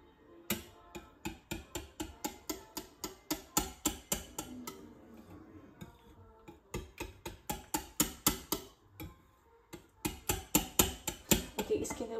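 Thick condensed milk beaten by hand in a bowl, a close series of quick, sharp taps in rhythmic bursts with brief pauses, and no one speaking.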